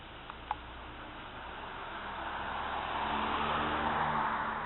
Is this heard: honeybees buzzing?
no